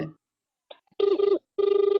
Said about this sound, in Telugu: మిస్డ్ కాల్ ఇవ్వండి రింగ్ అవుతుంది చూడండి